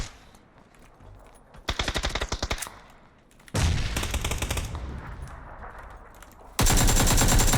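Gunfire in the video game PUBG (Battlegrounds): loud bursts of rapid automatic shots, one burst near the start and another at the end, with a long rumbling stretch of firing and noise between them.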